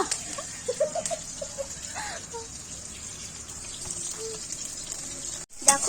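Low, steady sizzle of potatoes frying in oil, with faint clinks and a brief scrape near the end; no talking.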